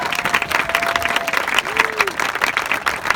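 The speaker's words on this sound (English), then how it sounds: "Please give him a round of applause." An audience at a Hawaiian cultural event gives a continuous round of applause, a dense clatter of many hands close by, with a brief voice faintly underneath.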